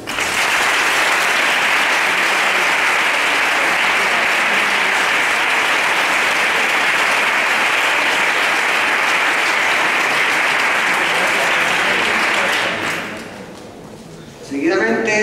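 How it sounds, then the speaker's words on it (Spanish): A concert audience gives a band a long, dense round of applause that holds steady for about thirteen seconds, then thins out and fades, and a voice comes in briefly at the end. "Pido un fuerte aplauso para ellos"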